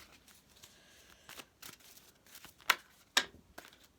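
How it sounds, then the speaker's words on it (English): Tarot cards being shuffled by hand at close range, soft papery riffles and slides building to two sharp crisp snaps near the end, quiet otherwise. "Just going to give these a little shuffle around."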